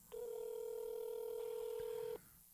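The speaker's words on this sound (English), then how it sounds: "Nobody's answering the phone." A telephone line tone sounds on an unanswered call, one steady unbroken tone lasting about two seconds at moderate level, with no one picking up.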